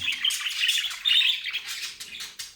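Budgerigars chirp and twitter rapidly up close, a busy stream of high, bright warbling notes with brief pauses.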